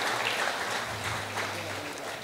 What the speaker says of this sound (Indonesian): Tepuk tangan untuk beliau luar biasa.